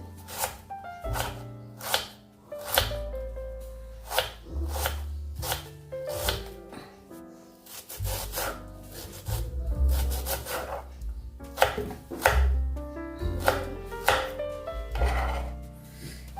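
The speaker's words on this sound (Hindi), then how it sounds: "मैंने प्याज को अच्छे से धो दिया है। अभी इसको हम काट लेंगे।" An onion is chopped with a knife while vegetables are prepared for a dhaba-style aloo gobhi fry, with close, irregular knife strikes and rubbing scrapes against the cutting surface over background music.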